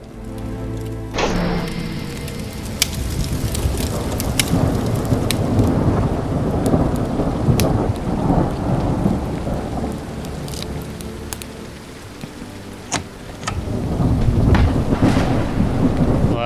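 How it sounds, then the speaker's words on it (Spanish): Heavy rain pours steadily in the horror video game Horror Tales: The Beggar, with a sharp thunder crack early on and rumbling thunder rolling under the constant downpour. "Vamos a poner lluvia."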